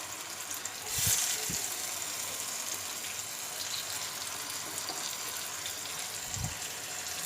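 Brinjal pieces frying in hot oil on a low flame, a steady close sizzle and crackle with a few soft thuds as pieces drop into the pan, no talking.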